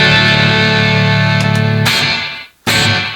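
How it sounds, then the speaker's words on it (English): Electric guitar played through a TC Electronic reverb pedal set to spring reverb into the front of a distorted Marshall amp, giving a loud sustained chord with a washy tail, a brief cutoff, then another strummed burst. "Right now I got it set to a spring reverb, and because it's going into the front end of the amp, I got all the distortion on the reverb as well"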